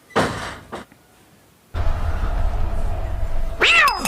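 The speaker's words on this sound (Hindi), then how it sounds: "बिल्ली." A cat cries in a film's soundtrack: a short, clear meow rising and falling near the end, after scattered thumps and a sudden steady low rumble.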